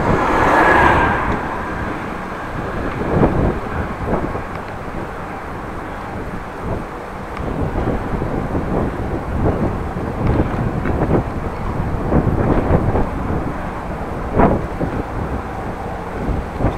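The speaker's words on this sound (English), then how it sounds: "nice cycling weather, although I could have done without the wind" Steady wind buffets the microphone during a bike ride through Groningen, a continuous low rumble with gusts swelling and fading throughout and no talking.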